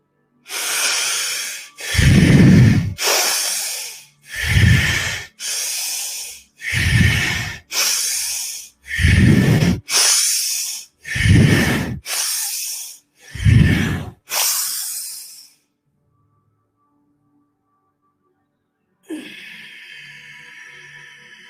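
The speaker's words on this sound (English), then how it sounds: "You're going to take 9 deep, big, fast, big, heavy inward breaths." Nine heavy, rapid breaths drawn through the nose, each a loud rushing burst in a steady rhythm, then silence and a faint noise at the end.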